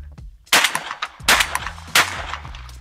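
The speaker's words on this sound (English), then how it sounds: "Let's just give it a few shots out in the air." A Tristar Viper G2 Pro 12-gauge semi-auto shotgun fires Federal Top Gun target loads into the air outdoors, three loud sharp blasts about three quarters of a second apart, each trailing off in a brief echo.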